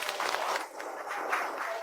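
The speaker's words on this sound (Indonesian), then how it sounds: "Mari kita beri tepuk tangan untuk Li Jiahua, seorang karakter fiksi, tapi memiliki semangat yang nyata." Scattered applause and clapping for an actor at the end of filming on a set, a moderate crowd clapping steadily for a couple of seconds with voices mixed in.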